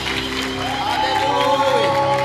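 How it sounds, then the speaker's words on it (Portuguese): A church congregation applauds for Jesus during a worship service, with steady clapping mixed with a voice and sustained musical tones over the top. "Mais palmas para Jesus, mais palmas, mais palmas."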